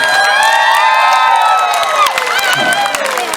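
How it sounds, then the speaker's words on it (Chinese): A large outdoor crowd at an evening festival concert in Chaozhou, Pingtung, cheers and screams with scattered applause, a loud, dense, sustained roar with high shrieks and whoops. "我们热情的掌声加尖叫声给这一些好辛苦的朋友们"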